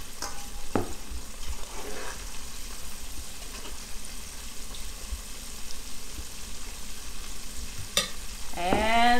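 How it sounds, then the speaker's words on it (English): Crappie fillets fry in hot oil with a steady, even sizzle, punctuated by a few clinks and scrapes of a spatula against the pan, the sputtering swelling louder at the end. "with the sound of the oil, you can tell when it's calmed down, when that batch is done"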